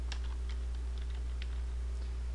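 Someone types on a computer keyboard, giving a few faint, scattered key clicks over a steady low electrical hum.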